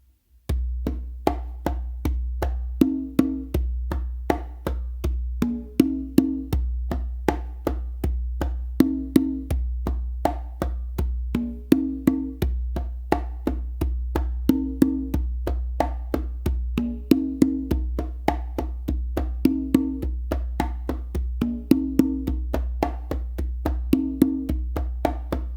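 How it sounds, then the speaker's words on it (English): Tumbao groove on three conga drums, steady repeating slaps and open tones with low bass thumps, played alone and up close throughout. "using a tumbao to start to move on to a 3rd drum"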